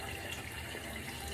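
Tap water running steadily during rinsing in a spa routine, a soft even gush held for a moment with no talk.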